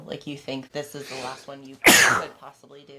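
One sharp, loud sneeze bursts out partway through a conversation, close to the microphone, with someone talking before and after it.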